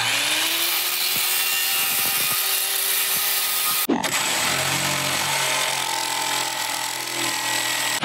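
Power saw cutting a plywood subfloor panel inside a van bathroom, loud and close, with a continuous high whine that stops abruptly midway and then restarts for a second steady cut.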